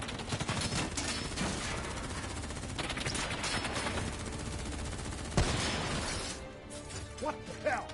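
Rapid gunfire bursts and scattered shots fill a Call of Duty campaign battle, dense and sustained with a sharp louder crack near the middle, mixed with shouting voices and chaotic combat noise.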